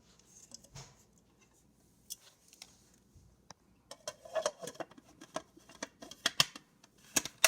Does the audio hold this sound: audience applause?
no